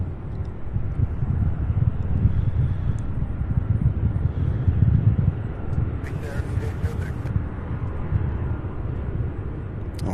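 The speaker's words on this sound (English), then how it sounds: "that MD-11 now on the move" A UPS MD-11 jet moving at Louisville International Airport produces a low, rumbling engine drone that rises and falls gently, with muffled voices and some wind buffeting over it.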